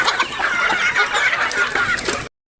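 Four-month-old native backyard chickens cluck and chatter in a busy, close flock, with overlapping calls running continuously until the sound cuts off abruptly.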